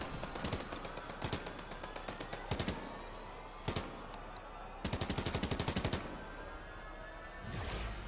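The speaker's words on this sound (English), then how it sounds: "There's a guy firing on me currently." Bursts of enemy gunfire in a video game crack out in several clusters of rapid shots, some single reports and some quick automatic strings, loud against a quieter game background.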